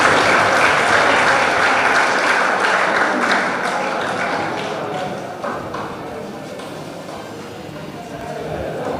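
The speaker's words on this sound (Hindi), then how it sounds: "एक बार पुनः इसके लिए ताली बजाइए सभी छात्र आप लोग।" Students applauding at a school ceremony honouring top-ranked pupils, a loud, dense burst of many hands clapping that slowly thins and softens over several seconds, with a voice faintly underneath.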